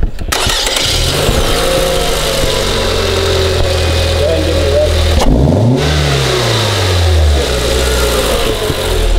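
A Scion tC engine fitted with an AEM cold air intake idles loudly and close by, then revs up sharply twice with a rising and falling roar. No one speaks.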